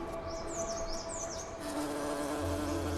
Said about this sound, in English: a plant with fur that's visited by hairy mountain bees